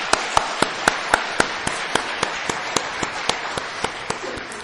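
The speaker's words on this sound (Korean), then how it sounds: "한번 박수 한번 하겠습니다." A church congregation claps for the choir at a Christmas service, with a crisp rhythmic beat of about two strikes per second standing out over a steady bed of scattered applause.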